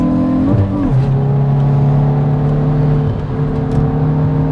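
A Hyundai i20 N engine holds a steady, loud drone, with one quick automatic throttle blip near the start that kicks the revs up and then lets them settle back to an even hum, with no talk over it.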